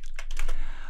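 A few quick keystrokes on a computer keyboard, a short burst of close, crisp clicks typing a command with no talking.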